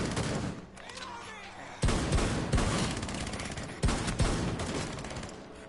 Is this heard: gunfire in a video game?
yes